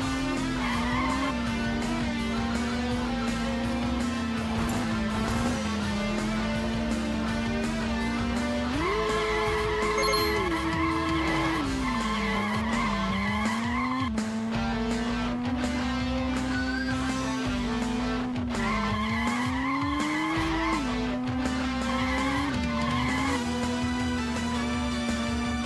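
Toy-style race car from the PlayStation game Choro Q2 whines steadily at high speed, its engine pitch rising and dipping through turns with squealing tire skids, continuous and loud throughout with no talking.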